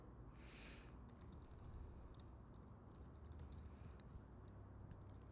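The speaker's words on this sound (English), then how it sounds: "type in your email address here" Typing on a computer keyboard, entering an email address into a contact form: a steady run of quiet, fairly close key clicks over a low background hum, with no talking.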